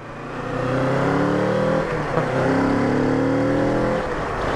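A 2016 Kawasaki Z650 motorcycle engine revving up twice, a rising exhaust note held loud and close, with a brief dip between the two pulls.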